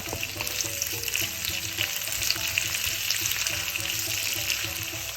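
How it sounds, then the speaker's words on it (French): Onions frying in hot chili oil in a pan for Thai stir-fried crickets, a steady dense sizzle running without pause, close and fairly loud, with faint clinks of stirring. "J'y ajoute les oignons. Je vais bien faire revenir."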